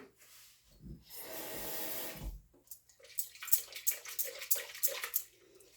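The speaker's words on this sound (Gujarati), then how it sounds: "બીજું અડધી વાટકી મેં પાણી નાખ્યું છે" Water is poured into a pearl millet flour dosa batter, a short gushing pour lasting about a second, followed by soft irregular stirring sounds.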